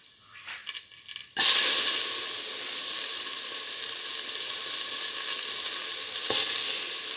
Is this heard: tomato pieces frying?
yes